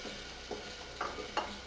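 Potatoes go into a frying pan with tomatoes for an Indian aloo sabzi and get stirred; soft scraping and light sizzle come in a few separate strokes, close but fairly quiet.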